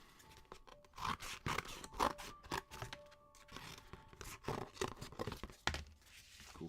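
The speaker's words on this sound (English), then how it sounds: "So let's just take the scissors and let's go with this side because this side's a little bit less." Scissors cut material with a run of crisp snips and scraping rustles, quiet and close, irregular in rhythm, with no speech.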